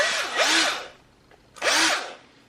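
A power drill countersinks holes in metal frame parts in two short, close bursts of whining spin, with a brief quiet gap between them.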